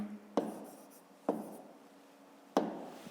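Three separate taps and scratches of a pen or pencil against paper as numbers are written by hand, close and quiet, spaced about a second apart.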